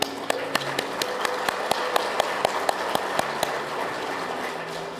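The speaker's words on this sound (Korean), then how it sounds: "여러분들 뜨거운 박수로 환영의 인사를 대신해 주십시오" An audience at a 2024 fire industry policy briefing applauds to welcome press representatives, sustained loud clapping with distinct sharp claps standing out at a steady rhythm, close, without speech over it.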